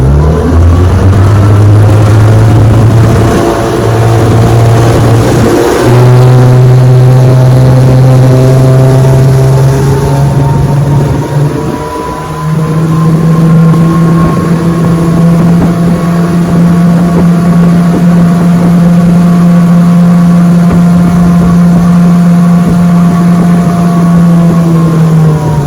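An old Johnson 9.5 HP outboard motor, fitted with an upgraded fuel pump, drives a boat on a speed run across open water, its loud steady drone climbing in pitch as it accelerates, then holding high and even.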